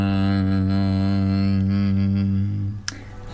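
A person imitates the loud, steady humming of a male singing midshipman fish, a sustained low drone held for about two and a half seconds before breaking off into a brief noisy tail.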